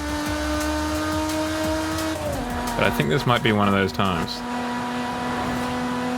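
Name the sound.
car engine revving in Forza Horizon 5 video game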